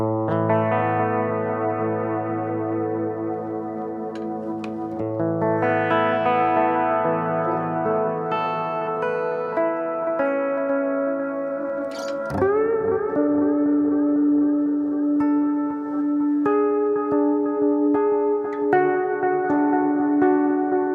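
An electric guitar played through a Matribox II modeling multi-effect pedal rings out in sustained, distorted chords with chorus and echo, loud and close, with a sharp pick scrape and slide midway before the notes settle and continue.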